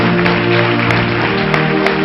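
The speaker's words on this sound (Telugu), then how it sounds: "గట్టిగా చప్పట్లు కొట్టండి" A church congregation claps loudly during a sermon, a dense, steady wash of applause running the whole time over sustained musical tones, with no voices.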